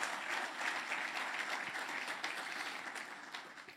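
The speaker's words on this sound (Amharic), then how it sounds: "አጨብጭቡለት።" An audience at a church gathering applauds, a dense, steady wash of clapping heard alone that gradually fades slightly over a few seconds.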